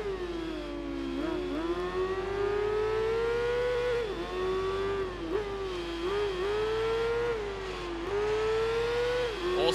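Racing motorcycle engines in the video game Tourist Trophy scream continuously at high pitch, rising and dipping with gear shifts and throttle changes as the bikes overtake on a short track. Loud and steady throughout, with no talking.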